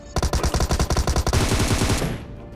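Rapid automatic gunfire from a military base area in the mobile battle game Free Fire, loud bursts of closely spaced shots that blur into a continuous rattling stream before fading out.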